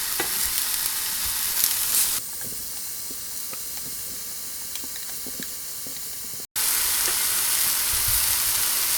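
Thick-cut banana slices caramelise in a frying pan for a vegan chocolate oatmeal, making a continuous bright sizzle and hiss that drops quieter partway through, cuts out for an instant, then returns loud.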